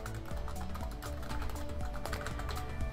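Text typed on a computer keyboard: a rapid, continuous patter of light keystroke taps under a dense, noisy background, with no voice.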